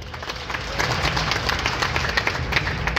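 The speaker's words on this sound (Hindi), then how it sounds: "थोड़ी ताली तो बजाइए" Audience at a comedy show at the Sonpur fair breaks into a steady wave of clapping, dense and fairly loud throughout, with a crowd murmur underneath.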